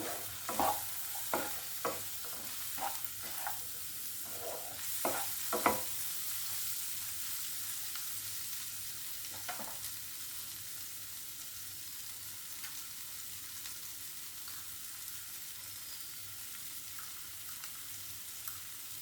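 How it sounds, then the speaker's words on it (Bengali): Turmeric powder stirred into a frying pan for an egg do pyaza curry: a quick run of scraping stirs early on over a steady sizzle, then a couple of isolated scrapes as the frying hiss carries on alone. "দিয়ে দেবো 1 চামচ হলুদ গুঁড়ো, দিয়ে ভালো করে একটু নাড়িয়ে নেবে"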